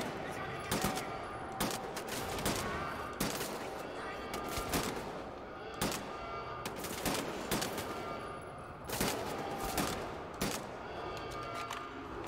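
Rapid gunfire fills the World War II shooter game Wolfenstein: The New Order, sharp shots cracking repeatedly in irregular bursts throughout twelve seconds, moderately loud over a steady bed of game noise.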